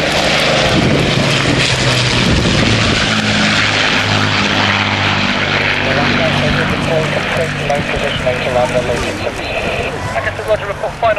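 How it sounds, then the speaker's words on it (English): A four-engine Avro Lancaster bomber of the RAF Battle of Britain Memorial Flight passes overhead at an air show, its propeller engines giving a loud, steady droning roar throughout while an announcer talks over it. "Royal Air Force Battle of Britain Memorial Flight, the Lancaster bomber"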